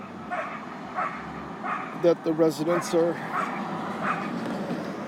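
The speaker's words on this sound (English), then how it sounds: "we've got some little barking dogs" Several small dogs bark and yip in a quick burst of high, sharp barks around a shopping center of single-story buildings, with someone talking over steady outdoor background noise.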